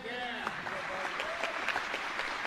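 Audience applause at the Lancaster Archery Classic youth male recurve final: a steady, close burst of clapping with sharp individual claps, while a voice speaks over it at the start.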